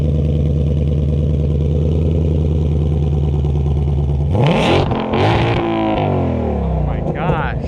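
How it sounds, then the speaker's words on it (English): A 2021 Ford Mustang Shelby GT500 idles with a deep, steady burble, then its engine is revved hard twice in loud, rising bursts that fall back between blips, close up in a crowd. "Only do like 2 big revs though"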